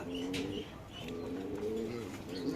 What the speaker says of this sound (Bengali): দুই নাম্বার খাঁচায় আছে একজোড়া রেসার কবুতর